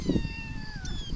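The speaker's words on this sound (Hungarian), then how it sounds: "Cicák." A cat lets out a short, thin meow, close, with a faint tonal whine over low background rumble, heard alone in a brief moment.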